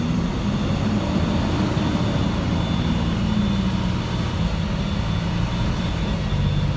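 A 2005 International 4300 truck with a DT466 inline-six diesel pulls away from a standstill, its loud, steady low engine drone heard from the cab, rising slightly in pitch as the truck gathers speed.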